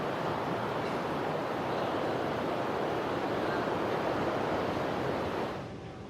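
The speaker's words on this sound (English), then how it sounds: "We've got a couple of waves rolling through." Steady roar of ocean surf breaking at a surf competition in South Africa, a continuous broadband wash with some wind noise, fairly loud and unbroken, easing slightly at the very end.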